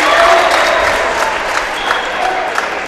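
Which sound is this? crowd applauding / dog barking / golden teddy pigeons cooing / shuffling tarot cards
crowd applauding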